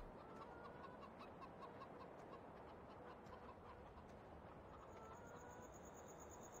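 Chickens cluck faintly in the Farming Simulator video game on the Ebsdorfer Heide map, soft repeated clucks under a steady wash of ambient background noise, with no talking.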